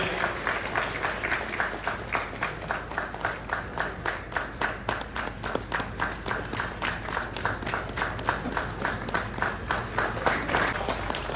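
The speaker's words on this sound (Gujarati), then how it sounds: "આપણે સૌ તાળીઓના જોરદાર ગડગડાટથી બેનના સન્માનને વધાવીએ." A large audience applauds at a Chitrakoot award ceremony in Talgajarda, steady dense clapping that swells in rhythmic pulses and holds at moderate loudness throughout, with no talk.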